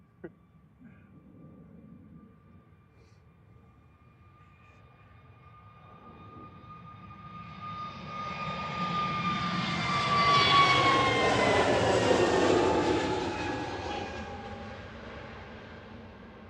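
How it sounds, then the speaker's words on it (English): A Jet2 Airbus A321neo, a nearly new aircraft registered G-SUNG, departing Manchester Airport for Malaga; distant whine grows into a loud, broad jet roar that peaks and slowly fades as it climbs away. "That's G Sun G heading out to Malaga for Jet 2 with flight 893. That is a relatively brand new A321 Neo."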